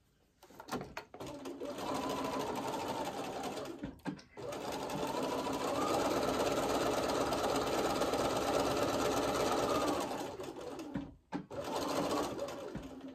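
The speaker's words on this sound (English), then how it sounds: "I'll take this bottom pair, stitch these together" Scrappy quilt fabric strips from Tilda fabrics are stitched together on a sewing machine, which runs in two long bursts of steady, rapid humming stitches with short pauses between, loud and close.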